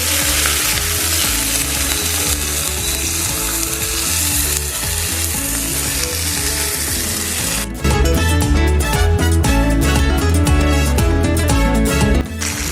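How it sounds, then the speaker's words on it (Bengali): A spoon works through a cauliflower and potato curry with fresh coriander in a hot pan, loud continuous sizzling under rhythmic scraping and stirring strokes that grow busier and more clattering toward the end. "ভালো করে আরেকবার সমস্ত কিছুর সাথে মিশিয়ে নেব।"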